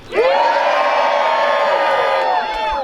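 A gathered crowd cheers and whoops loudly for the Cordova fishermen, a dense swell of many voices that rises fast, holds steady for nearly three seconds, then tapers off.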